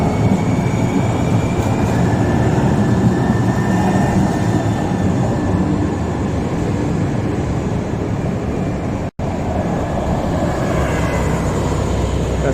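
A monorail train in Portland, Oregon rolls past as a loud, steady broadband rumble and rush that holds at the same level for the whole stretch, with no voices over it.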